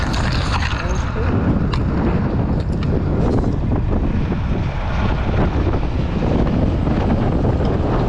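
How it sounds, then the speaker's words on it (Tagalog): Strong wind buffeting a microphone outdoors at a work site in Canada, a continuous loud roaring rush with gusty low rumble throughout, with speech faintly present beneath it. "Mahangin mga par."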